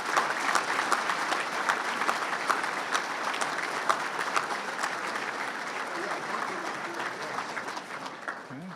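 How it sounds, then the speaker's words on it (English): Audience applause at a technology education center dedication ceremony, a sustained crowd clapping throughout, moderately loud and steady, tapering slightly toward the end. "let's give them a big round of applause"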